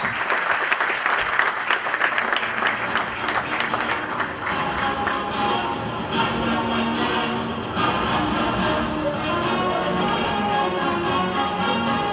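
Audience applauding at a Sakarya 2023 sports awards ceremony, steady dense clapping that fills the room and holds at an even loudness throughout, with no pauses or speech.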